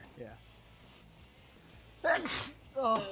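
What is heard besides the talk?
sneeze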